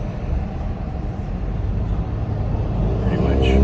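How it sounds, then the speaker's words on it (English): Heavy road traffic outside Berkeley rumbles from inside a car, with a low steady engine and road drone that builds slightly toward the end. "In heavy traffic."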